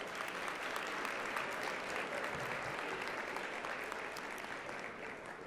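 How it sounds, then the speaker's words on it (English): Sustained applause from a conference audience at a 2020 ERN plenary session, a dense, even wash of clapping hands heard from within the room and fading slightly toward the end. "Let's give them a round of applause,"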